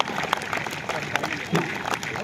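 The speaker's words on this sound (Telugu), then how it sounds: "క్లాప్స్ ఇవ్వాలి హ్యాండ్ బిగ్ క్లాప్స్" Crowd applause at a police parade ground during a Republic Day celebration, following a police dog demonstration: scattered, steady clapping from a gathered audience with a voice talking over it.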